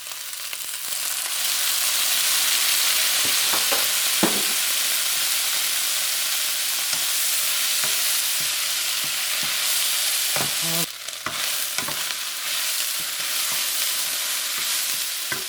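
Beef and onions sizzle steadily in a hot pan as chili cooking wine is poured in, a loud continuous frying hiss broken by occasional clinks and scrapes of stirring.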